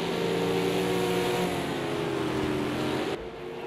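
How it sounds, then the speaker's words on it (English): A V8 Supercar in a racing video game motors out of pit lane at Indianapolis Motor Speedway road course, its engine a steady, loud droning hum with layered tonal harmonics that hold level for several seconds, then drop slightly. "He's just motoring out of pit lane now at the moment"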